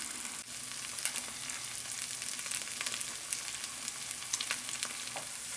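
MRE hash frying in a pan, a steady close sizzle with faint crackles and occasional soft stirring scrapes, no voices.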